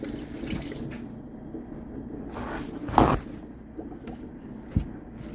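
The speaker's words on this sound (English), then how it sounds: "Wash my hands." Water runs from a kitchen tap while hands are washed, a soft running stream broken by a louder splash midway and a brief knock near the end.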